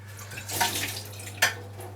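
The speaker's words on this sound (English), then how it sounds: "So I just pour hot water that I've been cooking in the plate." Hot cooking water is poured onto a dinner plate to warm it, two short splashy pours close by with a quiet low hum underneath.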